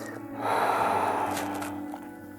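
A single long exhalation during a vinyasa yoga flow, a close, breathy rush of air lasting about two seconds before tapering off, with no talking over it.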